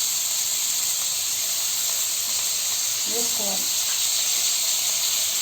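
Potato frying in a pan with coriander and mint for an aloo kurma, a steady broadband sizzle-hiss that runs throughout, with a brief voice speaking over it midway.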